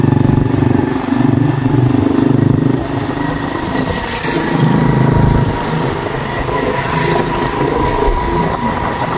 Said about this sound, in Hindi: हम भी चल रहे हैं मोटरसाइकिल पर